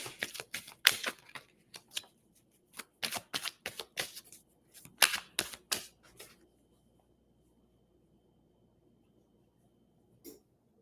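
Cards are riffled and shuffled in a burst of crisp, rapid clicks and snaps, repeated several times close by, then silence with one last faint tap.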